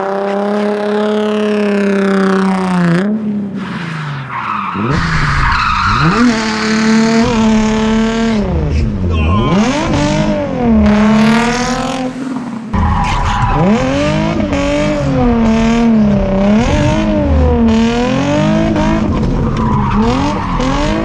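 A car drifts with its tires squealing loudly and continuously for the whole stretch. The squeal wavers up and down in pitch over a steady engine roar, close and unbroken, with no voices.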